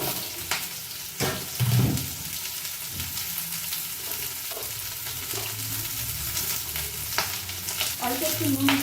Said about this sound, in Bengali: কড়াইটা তেল গরম হয়ে গেছে, এবার আমি এই ঝিঙ্গাটা একটুখানি সাঁতলায় তুলে রেখে দেবো